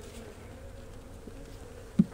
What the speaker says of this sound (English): These bees may be starving out.